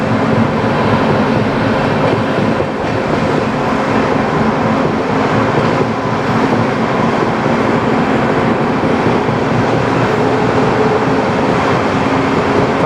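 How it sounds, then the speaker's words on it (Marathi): Amravati Express hauled by an ALCO diesel locomotive accelerating, a loud continuous rumble of engine and rolling wagons with rhythmic wheel clatter, heard up close from on board throughout. "आता आपल्याला ट्रेनला लागला आहे अल्को लोकोमोटिव्ह म्हणजे डिझेल लोकोमोटिव्ह लागले आहे. त्याचा व्यतिरिक्त साऊंड ऐका आणि ॲक्सिलरेशन बघा"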